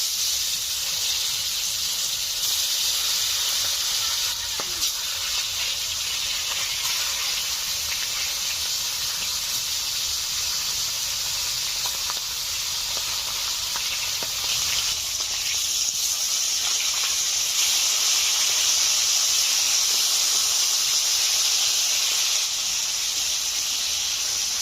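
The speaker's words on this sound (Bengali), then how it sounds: "মাছগুলো ভাজা হচ্ছে" Pieces of big sea fish fry in hot oil in a village kitchen, giving a continuous steady sizzling hiss that barely changes from start to finish, with no voices.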